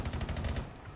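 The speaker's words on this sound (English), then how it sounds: "how many shots I just put the dude over there across the street?" Rapid automatic gunfire from a first-person shooter game, a quick rattling burst of shots that ends abruptly, fairly loud and with no one speaking over it.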